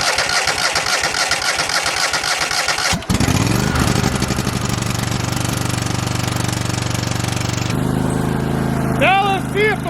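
A small engine, jump-started after sitting, catches with a fast chugging cranking rhythm and then settles into a loud, steady idle with a shift in pitch near the end, close up and with no talking.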